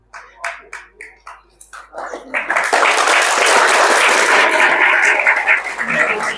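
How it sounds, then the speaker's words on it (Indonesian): Hesitant audience applause at an entrepreneurship seminar in an Islamic boarding school, starting as a few scattered, separate claps before swelling into steady, dense clapping from the crowd that holds to the end. "Mau tepuk tangan kok ragu-ragu ini."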